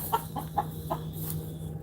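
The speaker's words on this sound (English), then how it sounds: "You see the chicken?" A chicken clucks in a short run of four quick, moderately close clucks, with a low steady hum and background noise beneath.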